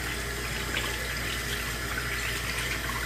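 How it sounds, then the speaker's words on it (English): Hands rinsed under a steadily running tap after an Epsom salt soak, a constant, close hiss of water splashing into a sink throughout, with no talking. "let's give it a rinse"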